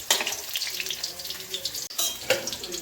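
Soya chops fry in hot oil for a vegetarian meat curry, a steady close broadband sizzle with brief bursts of crackle and a short dip near the end.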